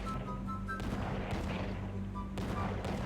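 Dense bursts of gunfire in the Sausage Man prop-hunt shooter game, loud and continuous across the clip over a steady low game hum, with no speech.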